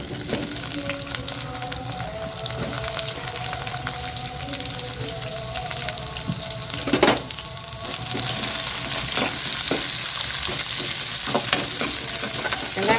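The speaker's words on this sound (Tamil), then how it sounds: "கொஞ்சம் வதங்கட்டும்" Onion with cumin and pepper sizzles steadily in a hot pan, close up, with a spoon stirring and scraping through it and one sharp clatter midway.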